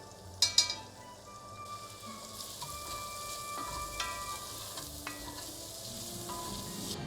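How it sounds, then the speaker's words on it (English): Onion and garlic hit a hot pan with an initial clatter, then fry in a steady, close sizzle, with a few light stirring knocks. "now we're going to add the onion and the garlic to this pan"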